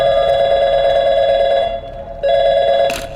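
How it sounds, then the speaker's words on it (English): A telephone rings loudly in the video game Portal 2, one long steady electronic trill that breaks off briefly and then starts again, with no voices. "Let's give your parents a call right now."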